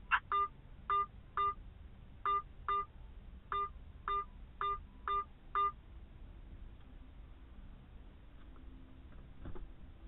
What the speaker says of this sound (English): Enter the area code and phone number you wish to call.